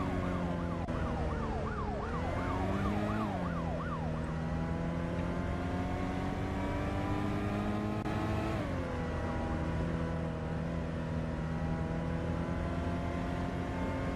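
A police car siren wails on and on during a Roblox video game car chase, rising and falling over the steady drone of a car engine.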